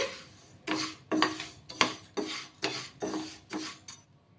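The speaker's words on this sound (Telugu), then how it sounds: "ఇలా పెసరపప్పు కొంచెం కలర్ చేంజ్ అయ్యే వరకు అయితే వేయించేసుకోవాలి" Moong dal dry roasting in a pan while a spoon stirs it, about eight rhythmic scraping strokes close by at a quiet, even pace, with no talk.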